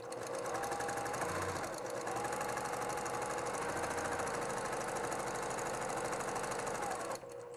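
A sewing machine stitches quilt fabric in a steady, loud mechanical whir that runs continuously, then briefly pauses near the end as the fabric is readjusted.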